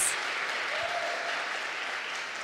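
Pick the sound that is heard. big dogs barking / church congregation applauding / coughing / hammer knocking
church congregation applauding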